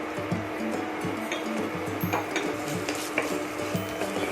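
Onion frying in a tablespoon of oil with ginger and garlic, giving a steady, close sizzle with light crackle and occasional stirring scrapes.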